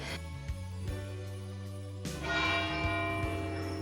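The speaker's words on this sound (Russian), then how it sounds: "Бьют колокола на церкви Святого Петра" Bells of St. Peter's church in Salou, Spain ring out in slow, resonant strikes, their tones overlapping and lingering, growing fuller and louder partway through.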